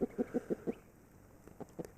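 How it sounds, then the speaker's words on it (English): A free-range rooster calling over hens makes a quick series of low, rhythmic clucking calls, about five in a row, then a few more scattered clucks after a pause. "the roosters will call over the hens"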